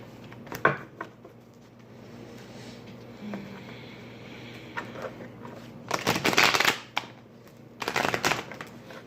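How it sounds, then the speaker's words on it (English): A deck of tarot cards is shuffled by hand in bursts of close riffling and flicking, with a sharp tap near the start and two louder shuffles toward the end, with no talking. "So I'm just gonna shuffle these cards a little bit."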